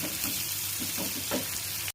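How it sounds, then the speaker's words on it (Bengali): Chopped onions sizzle and fry in a pan, with a steady hiss and soft scraping of a utensil stirring them, close by and continuous throughout, no talking. "পেঁয়াজ কুচিটা দিয়ে দিলাম, সেটা ভালো করে নাড়ানাড়ি করবো।"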